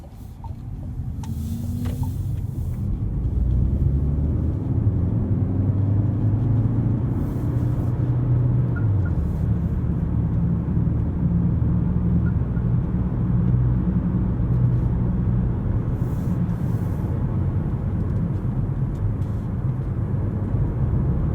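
Interior of a Dacia Bigster Hybrid on the move, recorded binaurally: a continuous low road and engine rumble with tyre hiss, a brief rising engine tone early on, then steady cabin noise with no talking.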